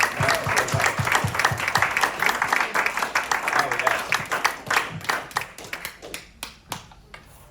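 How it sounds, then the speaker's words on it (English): An audience applauds after a poetry reading in Malibu, with dense clapping that thins out into scattered individual claps toward the end, and a voice briefly speaks over it. "another round of applause."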